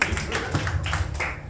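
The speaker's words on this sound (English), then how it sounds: "Clap it up for Ian doing a bang-up job of hosting" A comedy club audience claps briefly, a short burst of hand claps that stays fairly even and then thins out, with some crowd murmur underneath.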